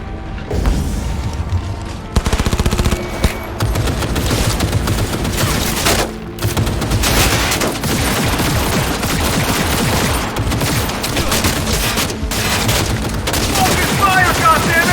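Sustained gunfire from a firefight in Cyberpunk 2077 rattles in loud, dense automatic bursts with heavy booms. A few brief drops to near silence break up the shooting, and shouted voices can be heard in the mix.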